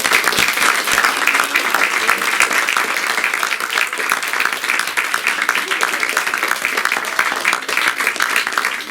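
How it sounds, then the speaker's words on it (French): Sustained applause from an audience after a beginners' theatre class show in Paris, thick, even clapping that runs continuously and loud throughout with some voices beneath. "On peut applaudir."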